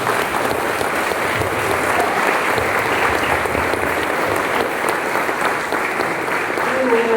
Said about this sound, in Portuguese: As palmas louvam ao Senhor.